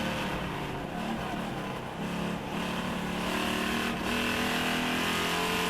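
Super Streets race cars run nose to tail on the back straightaway at Langley Speedway, a continuous loud engine drone with steady, sustained revving and a slight shift in pitch midway.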